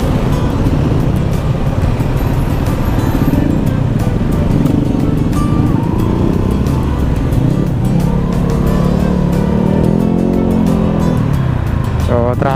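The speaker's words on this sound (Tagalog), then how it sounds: "So, traffic guys." Busy afternoon road traffic with cars and motorcycles streaming past at a fiesta in barangay Caracaran, Rapu-Rapu, Albay, a steady dense rumble of engines with occasional louder revs up close, and people talking over it.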